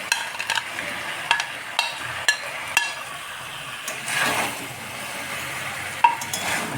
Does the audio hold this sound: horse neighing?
no